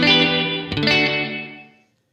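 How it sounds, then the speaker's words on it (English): A guitar chord played through a Source Audio Artifact pedal in micro reverb mode, a short reverb tail with a chorused, slightly distorted shimmer that is strummed again midway and decays quickly into silence. "just very little reverb."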